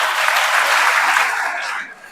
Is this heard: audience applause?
yes